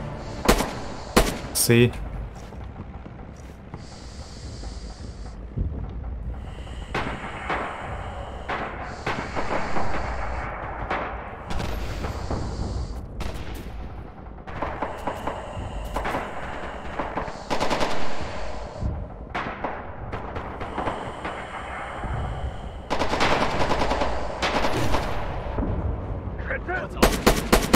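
Rapid machine-gun bursts and rifle shots from a Red Orchestra 2 battle, dense and sustained with loud cracks near the start and end, while a player speaks briefly over the gunfire.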